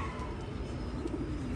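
Soft, low cooing of golden breeder pigeons runs steadily through a dense, murmuring background, with a brief rolling coo standing out near the end.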